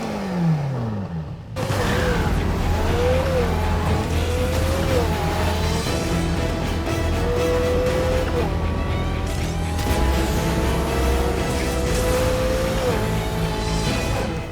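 McLaren P1 GTR race car flying by in the Need for Speed Heat video game, a loud continuous engine roar with rising and falling revs under music-like game sound, no clear talk.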